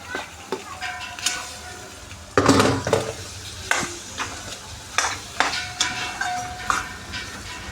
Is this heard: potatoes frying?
yes